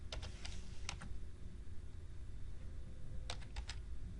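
Keys on a computer keyboard are tapped in two short runs of clicks, close and crisp over a steady background hum.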